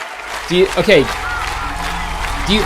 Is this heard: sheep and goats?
no